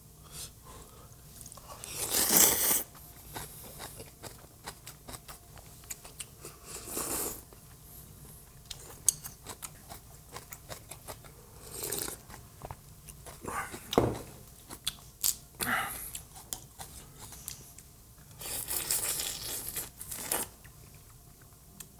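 Someone eating red crab ramen with long strips of kimchi, with intermittent close slurps, bites and chewing noises spaced out over a quiet background.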